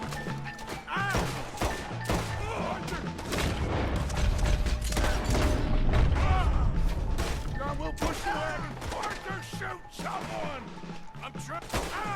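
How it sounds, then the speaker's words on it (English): Pistol shots from the Red Dead Redemption 2 video game, scattered sharp cracks and thumps mixed with game action and music, while someone talks over much of it. "That's a pretty powerful little pistol, to be honest."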